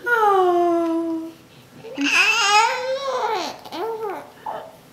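Baby girl cooing and babbling in soft, drawn-out vocal glides, close and clear, with several rising and falling coos in a row and brief pauses between them.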